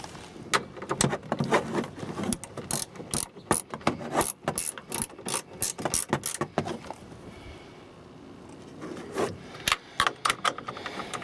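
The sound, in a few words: tightening mirror nuts with a 10mm ratchet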